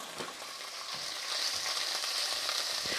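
Food sizzles steadily while frying during a home cooking challenge, a loud, continuous crackling hiss that swells slightly midway and runs on without speech.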